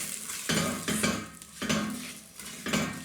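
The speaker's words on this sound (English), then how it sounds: "I'm going to give that a stir through, get those toasting" Whole spices and turmeric toasting in a hot pan for chicken biryani, stirred in quick sweeps: sizzling under several distinct scraping strokes of a spoon across the pan, close and alone.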